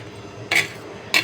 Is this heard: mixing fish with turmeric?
yes